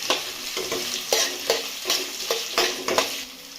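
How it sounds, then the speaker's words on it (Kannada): Onions frying in hot oil with mustard seeds, green chilies and curry leaves for pumpkin palya, a steady close sizzle broken by regular stirring scrapes about every half second, with no voices. "ಈರುಳ್ಳಿ ಕಂದು ಬಣ್ಣ ಬರೋವರೆಗೂ ಫ್ರೈ ಮಾಡ್ಕೊಳ್ಳಿ"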